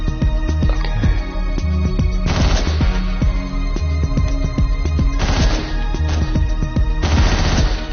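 Gunfire from shooting in the video game Hotline Miami, loud rapid repeated shots in dense bursts over driving game music, continuous throughout.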